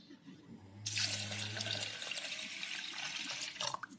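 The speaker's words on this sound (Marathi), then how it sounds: "उडदाच्या डाळीमध्येही पाणी टाकूया।" Water pours from a tap into a bowl of urad dal, starting suddenly and running as a steady loud gush for about three seconds with splashing near the end.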